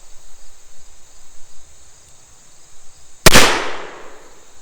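A single sharp, loud gunshot from a Pietta 1858 Remington cap-and-ball black-powder revolver cracks out after a quiet stretch of crickets chirping outdoors, then decays over about a second.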